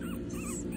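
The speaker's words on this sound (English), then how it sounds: "And Rosie is bringing the rock to her puppies because she wants them to throw" Young puppies whimpering softly nearby in a short, continuous stretch, with faint high yips over a steady low background rumble.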